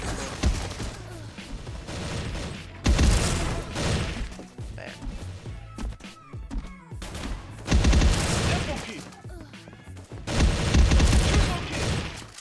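Automatic rifle fire from an M4A1 in the online shooter Bullet Angel, heard as loud bursts of gunshots with impacts repeating every few seconds, with a game soundtrack and effects running between them.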